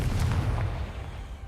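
Confringo explosive spell in Hogwarts Legacy, a single heavy booming blast with a deep low rumble that quickly fades over about a second.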